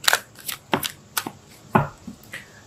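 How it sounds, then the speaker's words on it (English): Tarot cards being shuffled and pulled, a quick series of sharp riffling snaps and slaps at close range with short pauses between them. "Let's pull a card for your emotional space."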